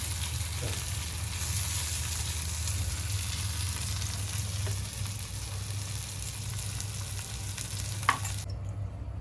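Surmai (kingfish) fish frying in a pan gives a steady, close sizzle with a low hum underneath, a faint clink near the end and no speech.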